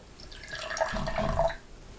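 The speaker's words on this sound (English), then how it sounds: "assuming I take this water and I pour some here." Water pours from a container into another vessel in one short continuous splash of about a second, close by and moderately loud, with no talking over it.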